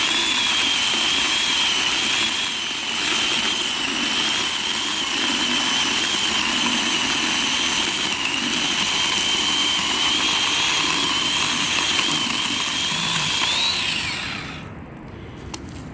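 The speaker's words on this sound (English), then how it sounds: "He's going to use an electric chainsaw." An electric chainsaw whines loudly and steadily while cutting through a tree stump, holding a high motor pitch for a long stretch before winding down.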